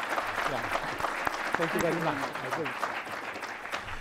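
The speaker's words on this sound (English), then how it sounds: "let us give a big applause to the folks" Audience applause for a keynote speaker at an annual education technology conference, a steady patter of clapping throughout with a voice speaking over it.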